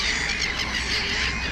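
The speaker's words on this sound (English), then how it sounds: "And here's the other unidentified gull." An unidentified gull at Lake Constance squawking, a few harsh, raspy calls close by over steady outdoor background noise.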